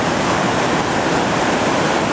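Whitewater roars steadily over the second drop of Initiation Rapid on the Gauley River at 650 cfs, a loud, unbroken rush of churning water close by with no voices.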